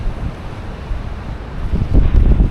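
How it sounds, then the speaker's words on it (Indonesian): Waves wash onto an Indonesian beach at sunset while strong wind buffets the microphone, a steady roar swelling louder toward the end as surf rolls in. "Ini udah sampai di pantai."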